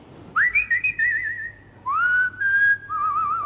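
A person whistles a melody from classical or film music, clear sustained notes with vibrato in two phrases, close and alone with no talk.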